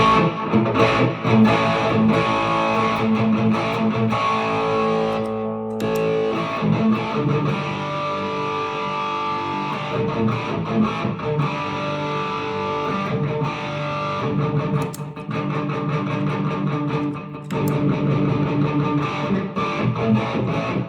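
Heavily distorted electric guitar played through an overdrive pedal with gain cranked and noise gate off, thick saturated chords ringing with brief stops, loud and continuous for about twenty seconds.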